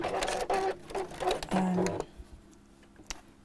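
A sewing machine stitches a seam on a small fabric box bag in a steady whirring run of about two seconds, close and clear with a brief change in pitch, then stops and leaves light handling noise.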